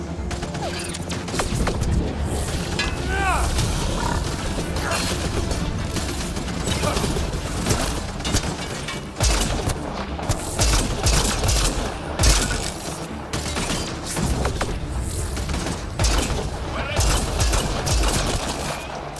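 Gunfire in the video game Mass Effect: Andromeda, with dense bursts of shots and mechanical weapon clatter running almost nonstop over nearly twenty seconds, loud and close, mixed with game effects.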